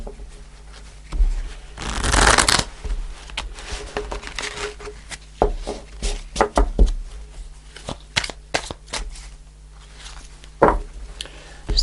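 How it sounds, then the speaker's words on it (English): Tarot cards being shuffled by hand during a Gemini love reading, a dense riffling burst early on followed by lighter intermittent card flicks and taps, close and fairly quiet, with no talking. "Do one more shuffle."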